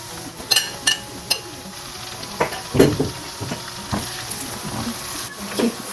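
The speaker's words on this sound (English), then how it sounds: "Keep frying it until it is nice and brown" Ginger, garlic and green chilies fry with methi in a pan for fish pickle, giving a steady close sizzle broken by a few sharp clinks and scrapes of stirring, with no talk.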